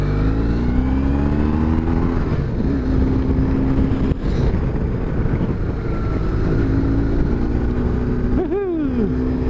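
A 2000 BMW R1150GS motorcycle accelerates onto a freeway, its engine droning loud and steady close by with a rising rev and wind rush throughout, and a brief high whine near the end.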